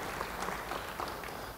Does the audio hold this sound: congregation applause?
yes